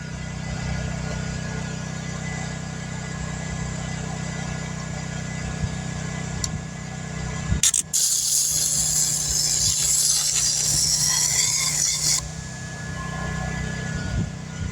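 A cheap handheld 120 volt welder burns into thin metal, giving a steady buzzing hum that breaks into a loud, harsh crackling hiss for several seconds before dropping back, with no talking.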